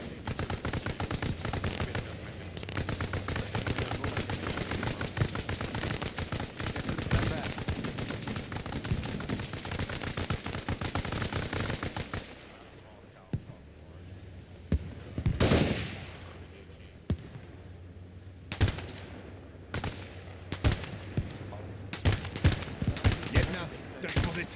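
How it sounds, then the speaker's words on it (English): Rapid bursts of video game gunfire in a military shooter, dense automatic fire for the first half, then sparser single shots and short volleys with a loud blast midway, under occasional talk. "Provide that cover fire."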